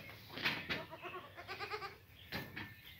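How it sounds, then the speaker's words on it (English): A goat eating honeysuckle in a barn pen gives faint bleats, with a quick run of rapid, wavering calls in the middle and a few soft thuds around it. "But yeah, goats love honeysuckle."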